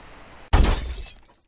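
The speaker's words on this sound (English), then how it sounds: "The next thing I heard was the sound of glass shattering and a mix of screaming" Sudden loud crash of glass shattering, a single sharp burst that scatters into tinkling fragments and fades out, set against a quiet background in a horror narration.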